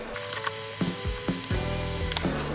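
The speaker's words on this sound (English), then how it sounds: "Start the threading and use the nut to bring the wheel home." A tiny nut is threaded onto a 1/35 scale micro crawler wheel, giving a few close, small ratcheting clicks and light mechanical ticks with no talking.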